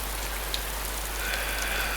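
Steady rain falls and patters on surfaces, a dense even hiss with occasional sharper drops, continuous and fairly loud with no voices.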